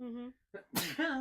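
One sharp, close sneeze bursts out between short stretches of a person's voice, loud against an otherwise quiet room.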